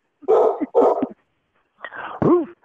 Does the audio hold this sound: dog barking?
yes